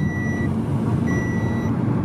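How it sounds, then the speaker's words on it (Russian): Repeated electronic beeping, two sustained high tones separated by a short gap, over a loud low rumble of vehicle noise with no talk. "Вот это пикание, это фэншуй."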